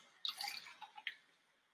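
Water poured onto a plastic cup, giving a few soft, close splashes and drips over a second or so before fading to quiet.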